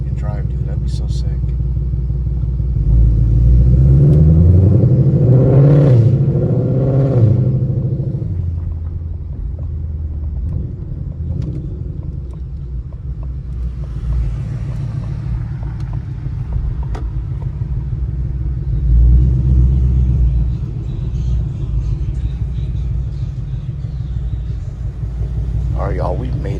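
Shelby GT500 driving on the road, a deep continuous engine rumble that swells loudly as the car accelerates, then settles to a steady drone, with someone talking over it.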